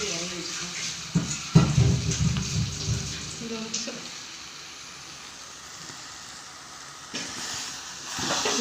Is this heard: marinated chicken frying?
yes